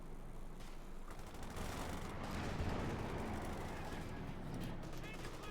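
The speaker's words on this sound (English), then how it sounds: "Panzer then engaging the paratroopers." Gunfire and cannon blasts from a Panzer IV tank engaging paratroopers in Company of Heroes 2 rumble in a dense, continuous wartime battle din, with a commentator talking over it.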